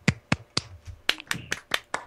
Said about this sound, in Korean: 진심으로 격려의 박수를 드립니다.